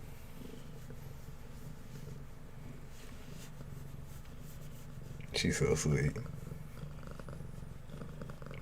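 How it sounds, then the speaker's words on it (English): A pet cat purrs in a low, steady rumble, soft and close, running continuously while someone speaks briefly partway through. "She giving them ASMR purrs."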